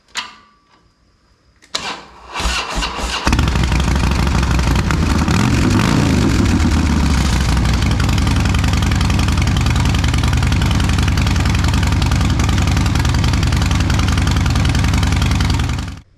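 A Harley-Davidson Dyna Low Rider fitted with a Vance & Hines 2-into-2 exhaust starts after a couple of seconds of near silence, then settles into a loud, steady, deep idle rumble that continues unbroken to the end.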